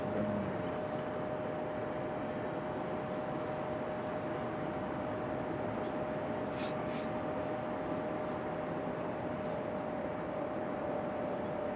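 A Breeze Airways airliner moving at Raleigh-Durham International Airport, heard as a distant, steady broadband jet roar with a faint whine that holds constant throughout, with no other sounds standing out.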